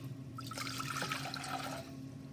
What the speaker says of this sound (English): We'll begin making our tea by pouring 2 cups of water